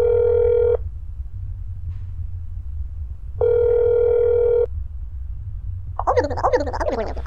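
Telephone dial tone from the horror game That's Not My Neighbor: two steady buzzing tones, each about a second long, separated by a pause, over a low hum, followed by a burst of warbling electronic sound at the end.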